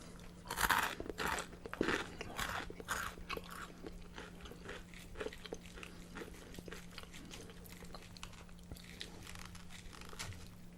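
Croutons crunch close up as someone eats a chicken Caesar salad, with loud crisp bites at first that give way to softer, steady chewing under a low constant hum.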